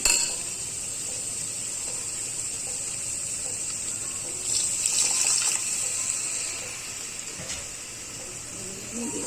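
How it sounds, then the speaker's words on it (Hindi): Water is poured into dry spices in a cooking pot in a home kitchen, making a steady, close gush that swells briefly midway before settling, with faint pot and utensil clatter. "थोड़ा सा इसमें पानी डालेंगे ताकि मसाले जले ना।"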